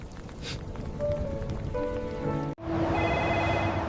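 Steady rain falling on a surface at night, a continuous hiss with scattered drops, broken by a sudden cut to a different scene mid-clip.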